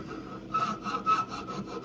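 Hand file working the cutouts of a wooden scraper shave body, giving a few short rasping strokes in uneven rhythm, close and fairly quiet, with no voices.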